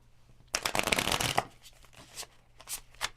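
Oracle cards being shuffled, a burst of papery riffling about a second long, then softer scattered card slides and taps close to the microphone, with no talking.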